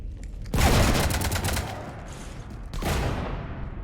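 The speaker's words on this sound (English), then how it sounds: "You want to stop shooting up my ship?" Sustained automatic gunfire rakes a ship in the Mass Effect 3 video game, a loud dense fusillade starting abruptly, easing briefly, then resuming near the end with no talk over it.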